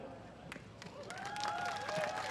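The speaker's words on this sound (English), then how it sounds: "Big round of applause for Liam." Crowd applause for racing driver Liam Lawson on the podium at the New Zealand Grand Prix, Toyota Racing Series; moderate clapping that builds steadily, with a high tonal whine and an announcer's voice over it.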